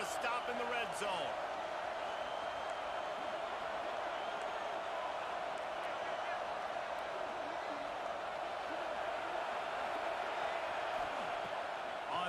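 Continuous stadium crowd roar in a college football video game, steady and wide, with a commentator talking over it during a red-zone defensive stand.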